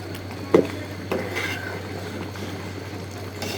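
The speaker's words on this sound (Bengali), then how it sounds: "আমি 2-3 মিনিট পর উপর নিচ করে মিক্সড করে দিচ্ছি।" Khichuri is stirred and mixed in a pot, with one clear clank of a spoon against metal, a softer knock, then a quiet scraping stir over a low steady hum, fairly close with no speech.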